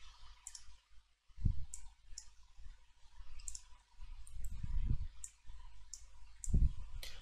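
Crisp computer mouse clicks while setting up a wireless home router, a series of light, sharp taps spaced irregularly over a low background hum, fairly close with no talking.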